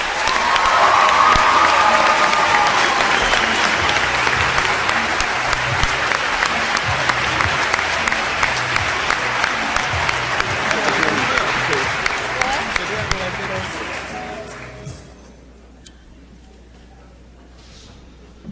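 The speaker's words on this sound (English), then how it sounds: "Please give a round of applause to Princeton's own Dr. Cornel West." Large audience at a Princeton hip-hop symposium applauding as Dr. Cornel West is introduced, a long, loud sustained roar of clapping with some cheering that fades out near the end.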